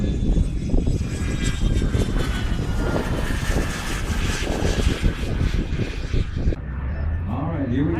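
Propeller aircraft performs at the Virginia Highlands Airshow, its engine roaring loudly and continuously as it passes close by, the drone swelling and fading with the manoeuvre before dropping away near the end.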